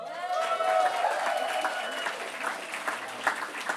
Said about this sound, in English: I can hear the applause is going on.